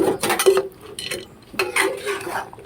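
A Kerala-style onion masala curry stirred in a pot over high heat, with a spoon knocking and scraping against the metal in quick, close bursts separated by short pauses.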